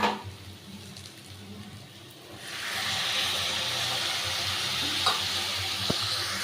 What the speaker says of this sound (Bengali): মশলা ধোয়া জলটা আগে আমি এখানে অ্যাড করব।